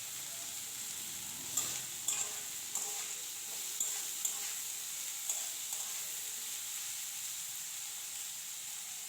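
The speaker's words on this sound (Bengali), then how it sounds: "গাজরটা দিয়ে নাড়াচাড়া করে আমরা একটু খুব ভালো করে ভাজা করে নেব।" Carrots stirred and fried in a pan with salt give a steady close sizzle, punctuated by a handful of sharp spatula scrapes and taps at irregular intervals, with no talking.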